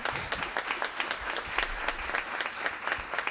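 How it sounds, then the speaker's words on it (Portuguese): Audience applauding at a formal award ceremony honoring women, steady clapping from a crowd filling the whole stretch at moderate level with no talk over it. "Uma salva de palmas para a Elaine, Juliana e a Daniela."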